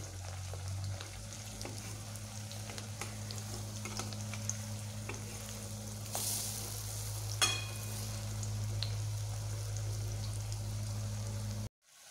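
Bottle gourd pakoras frying in oil in a pan over low to medium heat, with a steady close sizzle and bubbling throughout. Occasional light clinks and scrapes come as pieces are turned, and the sound cuts off abruptly at the end.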